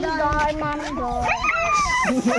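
A Filipino askal, a native mixed-breed street dog, gives a few close whining yips and howl-like cries over a busy background where people talk nearby.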